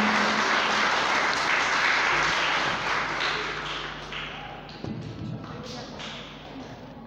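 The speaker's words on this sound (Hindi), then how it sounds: "भरपूर तालियों में" A hall crowd at a ceremony of Irfania Model Higher Secondary School in Sundar Sharif claps loudly and densely, the applause slowly thinning and fading toward the end with a voice speaking over it.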